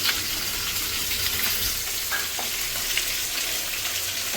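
Onion, ginger and garlic sizzle steadily in hot oil in a pan while a chicken curry is made, a dense, even hiss with faint crackles and no talk.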